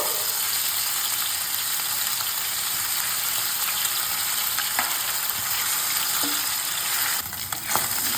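Pieces of katla fish fry lightly in hot mustard oil, giving a steady, close sizzle and crackle that runs unbroken throughout with no voices.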